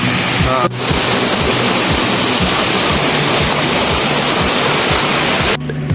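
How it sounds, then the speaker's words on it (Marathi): Devkund waterfall in Maharashtra sends a steady, loud roar of falling water, a dense continuous rush with faint talk briefly audible. "देवकुंडचा जे काही वॉटरफॉल आहे तिथून जे पाणी खाली पडतं"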